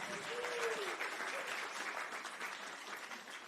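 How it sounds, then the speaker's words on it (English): Applause from an audience at a healthcare workforce summit, a steady wash of clapping at moderate level with voices and speech mixed in underneath. "Please give yourselves a round of applause for being here."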